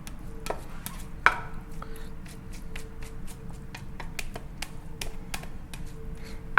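A wooden paddle slicing and turning sushi rice with vinegar, making a run of soft, irregular clicks and taps that sound close and fairly quiet over a low background hiss.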